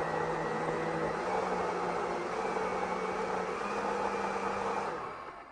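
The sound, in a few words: blender blending chopped herbs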